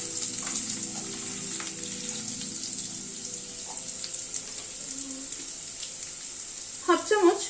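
Papaya pieces fry in a pan with tempering spices while being stirred, giving a steady sizzle with soft scraping throughout and a brief burst of louder clattering near the end.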